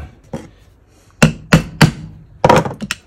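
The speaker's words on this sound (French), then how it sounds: "je mets un petit coup de poinçon, c'est juste pour que la mèche ne parte pas dans tous les sens" Several sharp, close metallic taps from a hammer on a center punch marking a spot for drilling, coming in irregular single and double knocks with short pauses between, with no talking.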